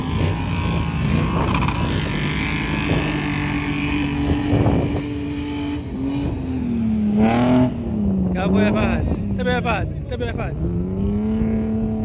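Off-road vehicle drifting in the desert with brake and throttle floored together, engine revving hard and rising in pitch, loud and near, with excited shouting voices over it.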